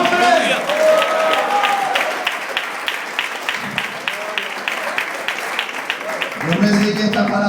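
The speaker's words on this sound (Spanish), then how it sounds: "Aplaude para Él en esta mañana" A congregation claps in steady, rhythmic unison during a Sunday worship service, the beats regular and moderately loud, with voices speaking and calling out over the clapping at the start and again near the end.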